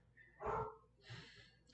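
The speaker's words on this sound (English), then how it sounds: "So I apologize if you hear the dog barking in the background." A dog barking in the background indoors, one muffled bark followed by a softer second sound, faint and distant.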